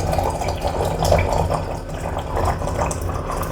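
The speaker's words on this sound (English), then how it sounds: "So I am going to fill my handy dandy yellow teapot" Water pours steadily into a yellow teapot, a continuous close splashing and trickling fill with no voices over it.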